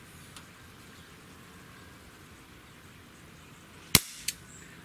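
A Smith & Wesson M29 .44 Magnum CO2 BB revolver fires one sharp, loud shot after a stretch of quiet room hiss, followed by a fainter short click or echo.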